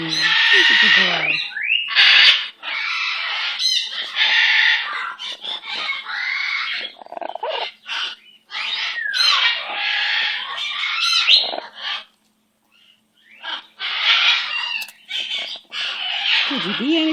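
Pet bird making loud raspy squawks and chuckling chatter in quick bursts close by, with a short quiet gap and a person talking to it softly.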